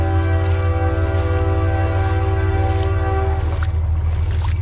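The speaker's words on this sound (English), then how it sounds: "There's a train." Train passing near a rural spot where arrowheads are being hunted, its loud sustained horn chord blaring over the heavy rumble of rolling cars, continuous and close throughout.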